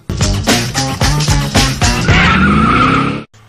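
A car does a burnout, its engine revving in repeated bursts before tires squeal into a sustained high screech that cuts off abruptly, loud and close.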